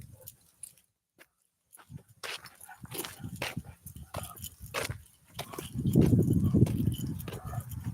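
A dog gives short barks and whimpers over about eight seconds, mixed with bursts of scuffling and movement noise and a rougher stretch near the end, with no talk over it.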